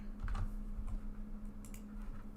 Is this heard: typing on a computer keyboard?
yes